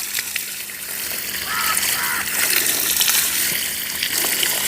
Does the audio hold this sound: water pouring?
yes